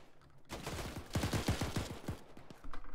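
Gunfire in the ArmA 3 military video game: dense automatic bursts fired in rapid succession, a loud, continuous volley of sharp reports lasting about two seconds before tapering into scattered shots.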